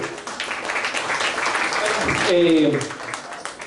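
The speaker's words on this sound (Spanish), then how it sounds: "Un aplauso." Audience applause at a spiritism anniversary gathering in El Salvador, a moderate patter of clapping that swells toward the end, with a voice speaking over it partway through.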